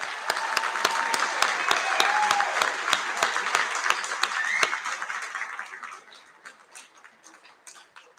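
An audience applauds at a school Year 12 and 13 prize giving assembly, a loud sustained round of clapping that fades out over the last few seconds.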